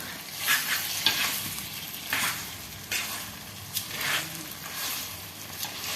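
Cooked lemons being stirred into a lemon pickle in a pan, heard as a soft background sizzle broken by repeated scraping strokes of a spoon at a roughly regular pace, with no voices.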